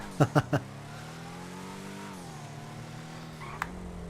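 Schyster Deviant car engine in GTA Online during a wheelie, a steady droning engine tone that dips and rises once, opening with three sharp bursts and a brief click near the end.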